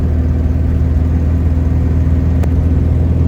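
A 1971 VW Beetle 1300 engine pulls steadily in third gear, a constant low rumbling drone heard from inside the car, with no voices.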